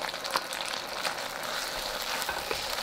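Shredded pork stir-fried in a wok for fish-flavored shredded pork, a steady close hiss of frying with faint scraping from the spatula running under it.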